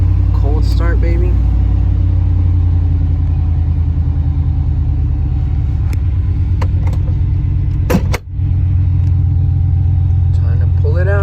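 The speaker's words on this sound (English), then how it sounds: "Cold start, baby." A Ford OBS single-cab truck engine runs after a cold start, holding a loud, steady, close idle rumble throughout, with a few brief clicks near the end.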